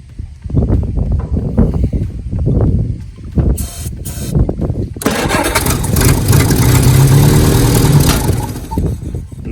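A 1967 Jeep CJ5, off the road for 23 years, cranks in several loud bursts after brake cleaner goes down the carburettor, then catches and roars into a steady, close, rough idle.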